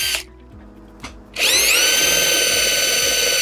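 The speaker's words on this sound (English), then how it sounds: "we're going to use our 5/32 drill bit here, drill down through these holes to create pilots for our sheet metal screws" A power drill bores 5/32 pilot holes through an aluminum handrail collar for sheet metal screws, starting after two brief taps with a loud, steady whine that rises in pitch and holds to the end.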